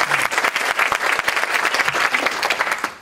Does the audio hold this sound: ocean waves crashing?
no